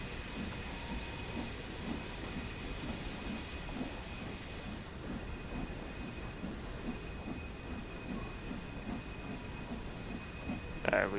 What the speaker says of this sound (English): Put a bit more steam in.